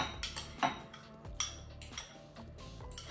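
An egg and avocado mixture being stirred in a bowl, a close sequence of soft scraping strokes and light clinks of utensil against the dish, irregular and quiet.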